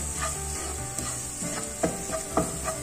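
Ground coriander, chili powder and turmeric stirred and frying in a pan for restaurant-style chana masala, with a steady soft sizzle and a few distinct spoon scrapes against the pan, close and without talk.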